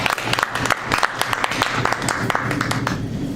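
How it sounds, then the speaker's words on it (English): Audience applause at a Toastmasters meeting, a dense steady patter of many hands clapping throughout, fairly close and even, with no voices over it. "Let's give him a round of applause."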